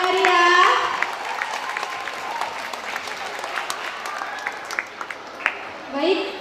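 A crowd applauds, a dense patter of clapping that swells briefly then continues steadily, with voices speaking over it at the start and end.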